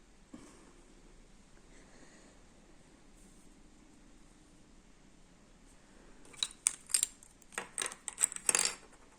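Scissors snipping contrast knitting yarn while making socks, with a quiet lull and then a cluster of sharp, metallic clicking snips near the end, close and soft, with no voices.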